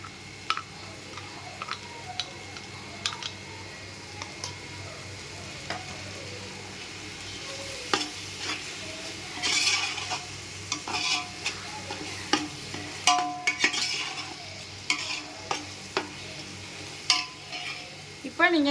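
Crushed dried red chillies stirred into chicken biryani frying in a pot, with a quiet steady sizzle under repeated clinks and scrapes of a spoon. The scrapes come sharper and more frequent toward the end.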